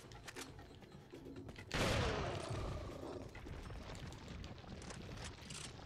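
Heavy shotgun blast in Resident Evil 4, a single loud burst that decays into a rolling rumble over a busy background of game noise.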